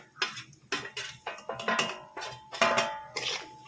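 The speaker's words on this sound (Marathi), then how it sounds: "हे सर्व भाजून घ्यायचे तेलामध्ये" Spatula scraping and clattering in a pan while peanuts and dal are roasted in oil with spices, a steady run of close, sharp strokes at a fairly even rhythm, with no talk.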